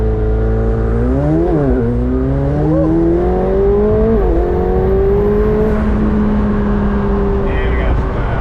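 A 2021 McLaren 720S Spider pulls hard under full acceleration, its engine note climbing steadily through the gears with brief dips at each shift. It stays loud and close throughout, with people talking over it.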